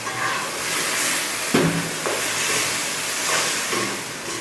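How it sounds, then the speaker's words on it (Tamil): Tamarind water poured into a hot pan while making onion thokku sends up a steady, fairly loud hissing sizzle, broken by a few soft clatters. "புளி ஊற்றுறேன்."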